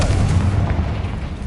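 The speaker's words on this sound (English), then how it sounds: "Confringo." A Confringo explosive spell blast in Hogwarts Legacy: a loud, close, booming burst with a deep rumbling low end that carries through the whole moment, alone with no voices.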